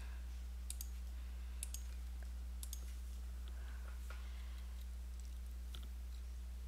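Sharp, faint computer mouse clicks, a handful scattered irregularly, over a steady low electrical hum while setting up a Minecraft armor status HUD mod.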